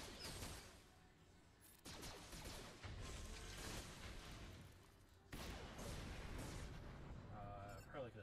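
Star Wars Galaxy of Heroes combat plays loud and dense, with grenade blasts, blaster fire and mechanical clatter in continuous waves and no voice over the action.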